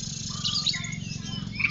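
A white-rumped shama (murai batu) of the Medan Bahorok type sings a few short, bright chirps and whistled phrases over a steady low background hum.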